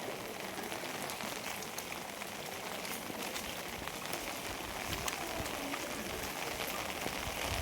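Steady rain pours down around an old government public school building in Hanubalu, a dense, even hiss of drops on surfaces lasting throughout, fairly quiet and with no voices over it.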